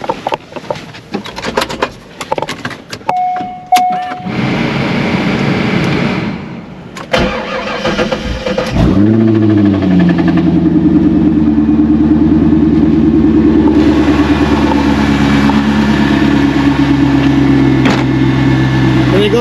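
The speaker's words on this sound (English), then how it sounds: "And then it'll stay running quiet like that this whole time, and no smoke. That's a cold start." A car engine cold-starts with a sharp crank and catch after a few seconds of scattered handling noise, then settles into a steady, smooth idle that runs on evenly and fairly quietly.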